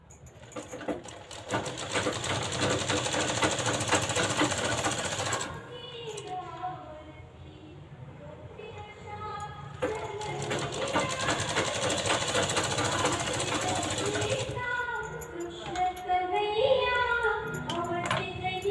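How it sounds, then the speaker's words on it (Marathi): A sewing machine runs a finishing seam on a lined blouse with a cross strip attached, its rapid steady stitching loud and close in two long bursts separated by a brief slower pause. "ह्याच्यावरती एक शिलाई करून घ्यायची आहे"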